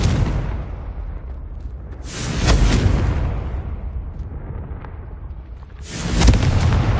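Confringo explosive spells cast in Hogwarts Legacy, two heavy booming blasts a few seconds apart with a rumbling tail between them, loud and close with no talk.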